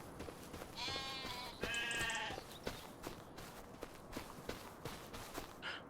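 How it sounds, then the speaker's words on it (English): Farm goats bleat twice in quick succession in Farming Simulator 25, with a soft clip-clop of hooves and light footsteps continuing underneath at a quiet level. "Okay, you're a goat."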